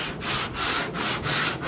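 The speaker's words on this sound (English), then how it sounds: "so that you can sand down the area in question." Body work on a Porsche 911 being sanded, a close, loud, continuous rasping in long even back-and-forth strokes, with no talking over it.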